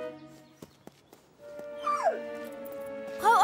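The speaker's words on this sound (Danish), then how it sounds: "Det er en hund. En redderhund." An animated rescue dog whimpers in a cartoon scene, a few soft clicks and steps followed by rising, wavering high whines, near and fairly quiet, with no talk.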